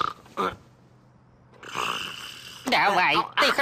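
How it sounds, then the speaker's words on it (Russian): A cartoon character snores at 3:26 in the morning in a Looney Tunes show. It comes as loud, rasping, wavering snore breaths in separate bursts with gaps between, and other voices are heard around them. "Давай, ты храпишь."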